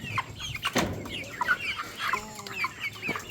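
Nine-week-old Dominant CZ layer chickens, D109, D853 and D102 strains, cluck and chirp in a steady busy chatter of overlapping calls, close by, with no talk.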